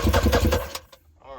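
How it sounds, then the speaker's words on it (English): Yamaha WaveRunner III two-cylinder engine cranking over with the starter during a compression test, a loud, rapid, rhythmic chugging for under a second that then cuts off into quiet. "Just for fun, we're gonna do a little compression test."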